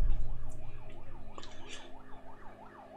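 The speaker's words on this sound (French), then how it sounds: "l'ambulance va arriver et va prendre en compte toutes les personnes" An ambulance siren wails in the video game Accident: The Pilot, a steady up-and-down yelp cycling repeatedly over a low engine hum, fairly faint and fading slightly as it continues, with no voices.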